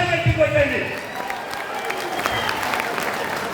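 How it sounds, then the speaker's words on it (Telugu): A crowd at a felicitation gathering in Karimnagar for minister Ponnam Prabhakar Goud breaks into loud clapping just after a voice fades, building into sustained, dense applause that fills the rest of the moment. "గట్టిగా చప్పట్ల ద్వారా సన్మానం చేసిన మరొకసారి గట్టి కొట్టండి"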